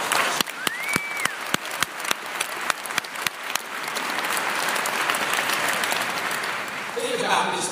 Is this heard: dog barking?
no